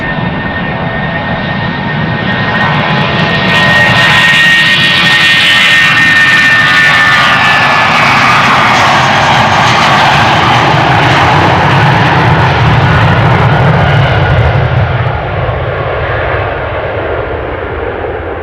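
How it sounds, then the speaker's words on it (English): A Delta Airbus A330 jet airliner passes at Amsterdam Schiphol Airport with a loud, steady engine roar that swells and lingers, its whine fading slowly toward the end. "you can see there's a Delta A330 coming next"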